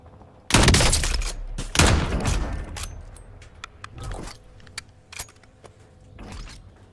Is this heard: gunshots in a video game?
yes